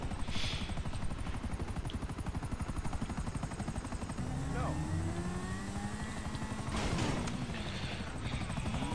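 A helicopter in GTA Online drones steadily with a continuous rotor thrum and engine whine, loud and close throughout, with the pitch shifting midway as it maneuvers.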